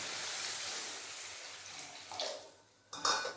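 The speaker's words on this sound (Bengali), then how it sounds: "এরপর দিয়ে দেবো জল" Water poured into a pan of lightly fried mustard seeds gives a soft rushing hiss that fades, then a brief louder splash and clatter near the end, quiet and close, with no talking.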